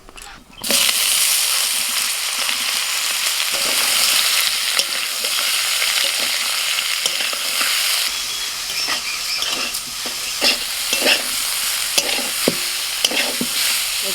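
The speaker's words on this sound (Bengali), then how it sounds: "এবার এঁচড়গুলোকে একটু ভেজে নেবো" Young jackfruit pieces frying in hot oil in a wok, a loud, continuous sizzle broken by repeated scraping stirs that grow busier toward the end.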